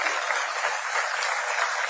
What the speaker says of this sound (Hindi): मेरा निवेदन है सभी जोरदार ताली बजाकर उनका स्वागत करें।